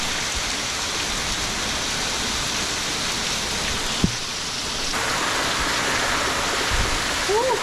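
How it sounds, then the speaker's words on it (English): Heavy wind and rain roar continuously during a Category 5 hurricane, a dense, loud wash of noise with a brief thump partway through. "it's been a couple hours of consistent heavy winds"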